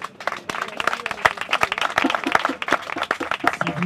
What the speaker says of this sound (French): Si vous aviez aimé, merci d'applaudir encore.